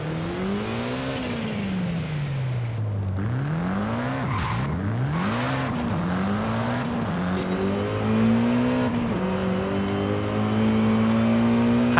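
A Mitsubishi Eclipse, a 1990s two-door four-wheel-drive sports car with a six-speed manual, revs hard in Forza Horizon 5. The loud engine climbs and drops repeatedly through quick gear changes, then settles into a rising, steady pull.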